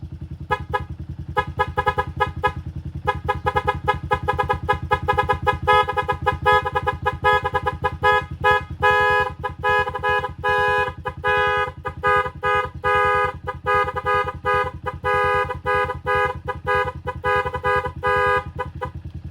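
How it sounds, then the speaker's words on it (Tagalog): A Motorstar TMX125 motorcycle fitted with a loud aftermarket horn blares continuously and very close, a steady harsh buzzing honk with rapid pulsing that sounds for the whole stretch without pause. "Loud horn."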